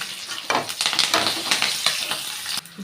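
Garlic and green chillies frying in hot oil in a pan, a crackling sizzle broken by repeated stirring and scraping strokes, close and fairly loud.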